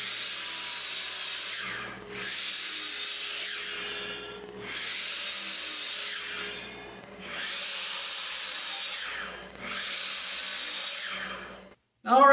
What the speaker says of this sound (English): we moved over here to the miter saw to cut the lengths for each piece